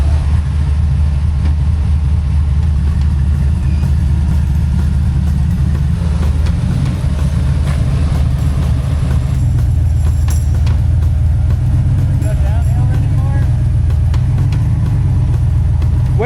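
A Jeep Comanche pickup tows a gooseneck trailer off-road with a steady, loud low engine drone. The drone holds unbroken throughout, with faint creaks and rattles over it.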